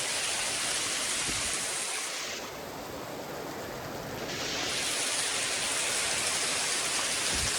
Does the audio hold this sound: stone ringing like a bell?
no